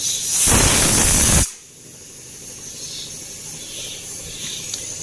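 A pressure cooker whistle blasts a loud, sharp hiss of escaping steam for about a second, then cuts off, leaving a low, steady background hiss and faint room noise.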